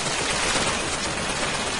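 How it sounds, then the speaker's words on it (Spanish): Dense, continuous gunfire in the video game BioShock Infinite, a loud unbroken wash of rapid shots filling the whole stretch with no pauses and no voices. "¿Desde dónde me están cayendo tiros?"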